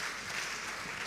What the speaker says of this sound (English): Members, can we give a hand clap to Torogalo's?